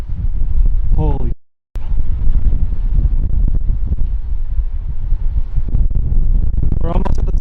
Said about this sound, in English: that wind is crazy right now